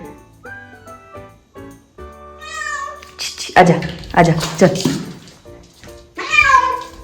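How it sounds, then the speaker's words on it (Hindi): A probably pet cat that has wandered indoors gives several drawn-out, wavering meows, close and clear, while a woman repeatedly calls to it between the cries; faint background noise sits underneath. "तो बिल्ली अंदर घुस आई है"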